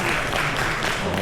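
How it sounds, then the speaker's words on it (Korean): Applause from an audience welcoming a speaker at a hospital administration conference, a brief, steady, dense burst of clapping. "박수로 모시겠습니다"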